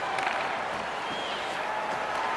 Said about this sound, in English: that big hit's going to really excite the crowd